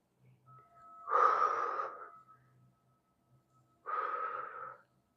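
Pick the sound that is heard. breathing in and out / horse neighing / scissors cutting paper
breathing in and out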